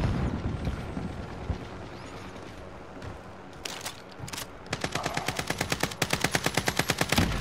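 Gunfire in Call of Duty: Modern Warfare, with scattered shots early and then a loud, rapid automatic burst of evenly spaced cracks filling the last few seconds.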